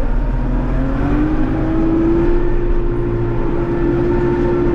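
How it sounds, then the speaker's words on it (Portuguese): A tractor engine labors steadily uphill while pulling a grain cart through deep mud, a loud continuous drone whose pitch slowly rises as it strains under load. "O trator tá sofrendo pra subir com o graneleiro."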